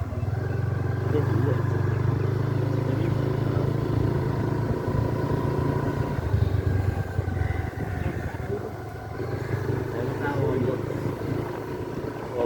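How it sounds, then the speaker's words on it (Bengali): A motorcycle engine runs loud and close throughout, a steady low rumble with a slight surge around the middle, while people talk over it outdoors. "বাইক শুরু করতেছে সে"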